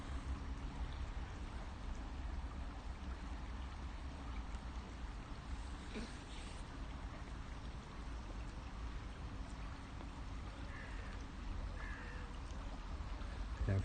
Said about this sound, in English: Nice sound of running water.